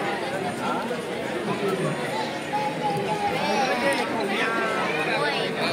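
Thick crowd chatter fills the air at the Mahalaxmi temple in Kolhapur during evening aarti, a steady dense babble of many voices close around, with a nearby voice speaking over it.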